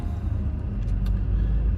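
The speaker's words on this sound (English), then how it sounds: "And we have officially hit traffic." A car creeps along in backed-up highway traffic, heard from inside as a steady, moderately loud low road rumble with faint engine drone throughout and no talking.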